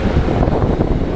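A steady, loud jet engine roar from landed planes at Phoenix Sky Harbor airport, a dense continuous blast filling the short moment with no talk.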